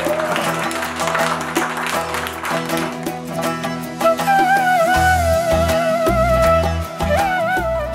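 An audience applauds to welcome guests onto a stage, with a scattered patter of clapping in the first half that is soon swamped by loud music.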